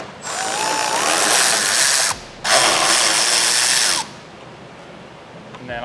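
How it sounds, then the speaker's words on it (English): Ratchet wrench loosening the two 10mm taillight bolts on a 2024 fourth-generation Toyota Tacoma, giving two close, loud bursts of rapid clicking separated by a short pause. "So what we're going to do is just remove the two 10mm bolts."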